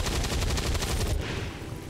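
A rapid burst of gunfire from the video game XCOM 2 sounds as a string of sharp, loud, close reports that fade into a short echo.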